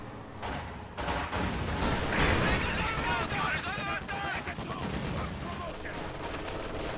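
Heavy MG42 machine-gun bursts and sniper fire crackle in a video game match, dense and continuous, with a commentator's voice talking over the shooting throughout.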